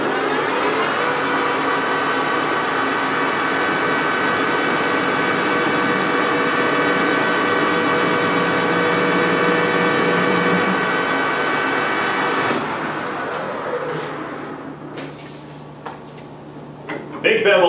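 A metal lathe cutting a big bevel under steady feed, giving a loud continuous tonal whir that holds for about twelve seconds before dropping off as the cut ends, followed by clunks of the machine stopping.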